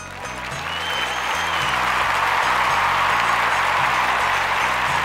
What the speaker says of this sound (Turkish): Alkışlar senin için gelsin.